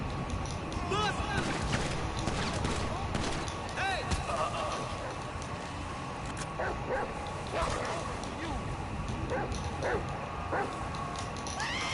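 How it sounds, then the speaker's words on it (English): A dog barks and yips repeatedly while attacking in a video game, sharp bursts scattered through a busy, noisy soundscape. "The dog was attacking him."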